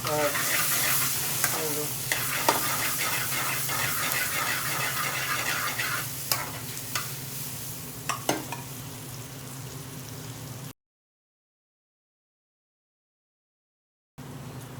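Onions crisping in oil and pure ghee for pilau rice give a loud, steady sizzle with scraping stirs, cutting out abruptly near the end before returning briefly.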